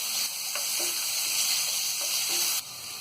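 Ginger garlic paste sizzles in a pan for tawa pulao, a steady close hiss of frying with faint stirring taps, dropping slightly near the end.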